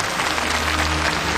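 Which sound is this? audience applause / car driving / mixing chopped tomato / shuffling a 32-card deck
audience applause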